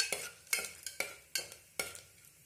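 Whole spices crackling in hot oil on a stove at low heat, with sharp sizzling bursts and a metal spoon clinking against the pan in an uneven rhythm, close and fairly quiet.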